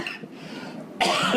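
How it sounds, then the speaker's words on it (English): A single short cough bursts out loudly after a moment of quiet room tone, close to the listener. "So this cough is never going to go away"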